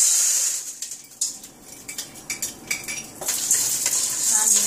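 Spoon stirring popcorn kernels and oil in a hot pot, with irregular metallic scrapes and clinks against the pan over a faint sizzle, close and alone.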